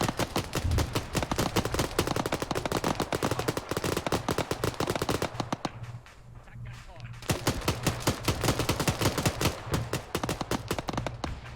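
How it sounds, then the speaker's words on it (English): Dense, rapid infantry gunfire from a military game, Arma 3 with a Command and Conquer mod, rattles in continuous automatic bursts, loud and close, with a short lull midway before the firing resumes. "these Nod infantry firing on the infantry"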